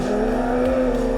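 In the Assetto Corsa racing game, a drifting car's engine holds a strained high drone with a steady tone, loud and continuous over a brief stretch of tire noise.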